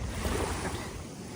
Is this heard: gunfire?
no